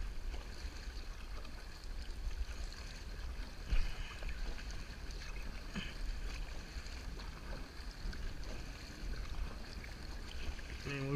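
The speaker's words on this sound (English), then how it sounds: "this boat's pretty fast, so let me get going full speed" An Eddy Gear Stingray XL small boat runs at full speed across the water, giving a faint, continuous low rumble and hull wash with wind buffeting the microphone and a few brief splashes.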